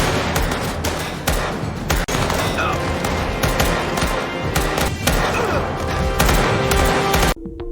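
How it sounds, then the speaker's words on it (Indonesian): Dense, sustained gunfire from the series Squid Game season 2, loud bursts and rapid volleys of shots with booming thuds, continuous for several seconds before cutting off abruptly near the end. "ia mulai mengambil senjatanya dan mulai menembaki mereka semua"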